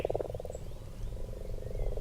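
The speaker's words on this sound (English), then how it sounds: "you arrive in a meadow beside a lake where the frogs are calling to one" Frogs call by a lake in a meadow, a close, loud run of rapid pulsing croaks repeating steadily over a busy chorus of other frogs.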